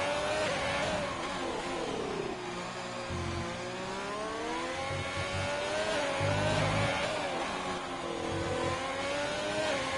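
An F1 2020 video game race car in qualifying at the Mexico Grand Prix screams at near full throttle, its engine note rising and falling in continuous sweeping revs, loud and sustained for the whole stretch.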